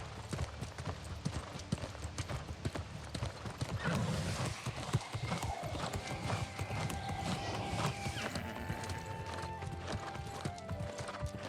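A horse gallops in the fantasy game New World: Aeternum, rapid hoofbeats pounding continuously and close, with occasional whinnies and a faint musical layer, no voices.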